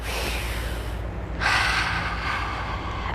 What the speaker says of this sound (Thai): หายใจเข้าลึก ๆอีกครั้งหนึ่ง